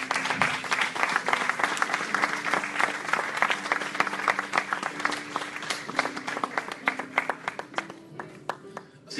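Church congregation applauding steadily for the full stretch, a dense wash of clapping hands with a few louder claps standing out near the end, a voice sustaining a tone underneath.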